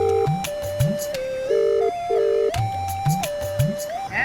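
A mobile phone rings indoors with a repeating electronic melody in steady bursts, clear and close, playing on alone with no voices over it.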